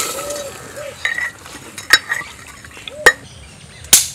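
Hot oil sizzles softly as spices and chili are tempered for dal, punctuated by a few sharp metallic clinks of a spoon against a pan.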